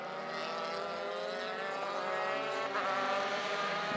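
Euroformula Open race cars in qualifying at Barcelona scream past in a dense, high-pitched engine whine that stays loud and steady throughout, with several cars heard together and no voices.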